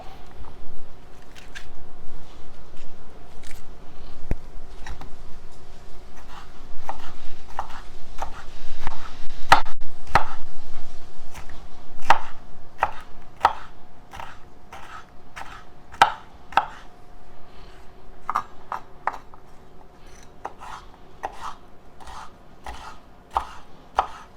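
Onions and peppers diced with a knife on a cutting board, a long run of sharp, rhythmic chops that speed into quick bursts, close and clear over faint room noise, no speech.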